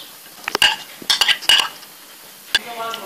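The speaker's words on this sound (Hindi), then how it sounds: "चलिए सबसे पहले इन सारी चीज़ों को हम अच्छे से मिक्स कर लेते हैं।" A spoon scrapes and clinks against a bowl in a few short bursts, stirring chicken, macaroni and mashed potato together, with quiet gaps between.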